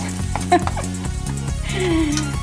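Garlic sizzles as it hits a hot pan for chicken tinola, a steady frying hiss over a rhythmic musical background, close and fairly loud.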